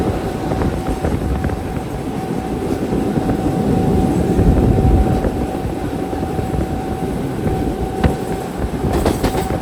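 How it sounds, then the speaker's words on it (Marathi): A train rumbles past loudly and steadily at Panvel railway station, with rolling wheel noise, occasional metallic clanks and a sustained tonal hum, no talking. "हे आहे पनवेल मे ट्रेन स्टेशन"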